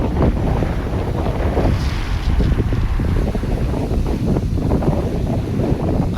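Atlantic Ocean waves and strong wind on Madeira's coast, a loud continuous roar of surf with heavy wind buffeting the microphone, no voices.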